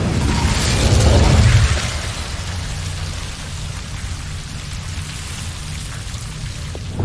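A fire spell cast in Hogwarts Legacy gives a loud, rushing whoosh-like burst that swells for about a second and a half, then falls into a steady crackling, rain-like hiss that keeps going to the end.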